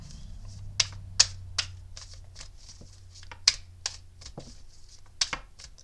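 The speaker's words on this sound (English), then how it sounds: "I wish I could shuffle faster so you guys didn't have to watch this." Tarot cards are shuffled by hand in a quiet room, a run of crisp riffles and taps in an uneven rhythm with a few sharper slaps, up close and with no talking.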